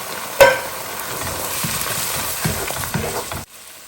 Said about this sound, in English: I'm just going to add a tin of tomato